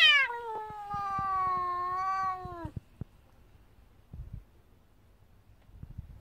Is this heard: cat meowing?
yes